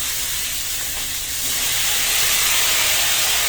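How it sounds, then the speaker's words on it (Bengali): Marinated fish hitting hot oil in a wok for a Naogaon-style potato dish, a loud, steady broad hiss of sizzling that swells slightly after a second and holds close up, with no talking. "এখন আমি যে মাছটা মেখে রেখেছিলাম এই মাছটা দিয়ে দিব আলু ঘাটির জন্য কড়াই"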